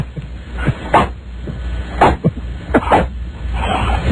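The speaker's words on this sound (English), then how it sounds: "That's our sword swishing sound effect." A radio show's sword swishing sound effect: a series of about five sharp, airy whooshes in quick irregular succession, loud and close over a low steady hum.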